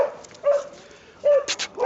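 A police sniffer dog gives short sharp barks and yips during a car search, three separated bursts close by with quiet gaps between.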